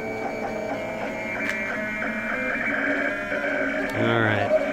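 A vinyl cutter slices a stencil with a steady, noisy mechanical whine and tonal buzzing, rising into a louder burst near the end, with no talking.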